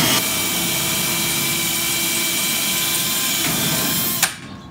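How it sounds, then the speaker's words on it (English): A power drill drilling out a rivet on a metal locker whines loudly and steadily for about four seconds, then cuts off abruptly, leaving near silence. "I'm just going to drill right into the same hole."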